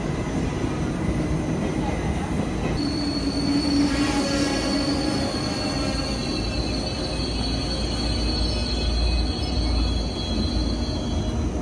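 Two coupled newer German ICE high-speed train sets pull into a station, a continuous heavy rumble with a high, sustained wheel squeal rising in the middle, loud and close throughout.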